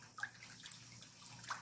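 Water poured from a container over leaf mustard in a basin for salting, a soft continuous splashing pour at moderate distance with a few brighter splash accents, no talking.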